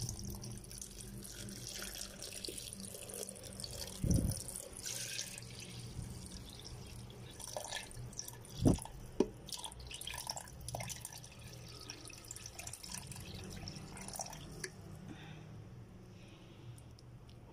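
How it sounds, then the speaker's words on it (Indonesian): Water pours into a blender holding avocado juice, a faint, close trickle and splash with a few soft knocks and clinks scattered through the quiet kitchen background. "Lalu terakhir saya masukkan air."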